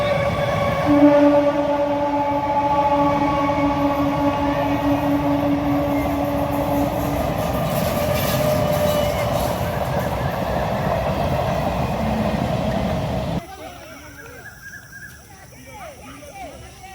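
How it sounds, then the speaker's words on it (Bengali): An Amta line local train sounds its horn and rumbles past close by, a long sustained horn tone over steady rolling wheel noise that cuts off near the end, with talking over it. "আমতা লাইনের ট্রেন হরেন দিচ্ছে এখন আমতা লোকাল আসছে যাবে আমতার দিকে"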